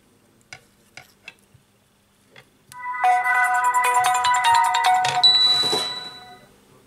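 A Samsung Galaxy A7 smartphone powers on and plays its startup chime after a few faint handling clicks, a bright melodic tone lasting about four seconds, close and clear with no talk.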